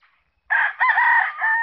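A single loud rooster crow rings out close by on a game farm after a moment of quiet, drawn out and wavering.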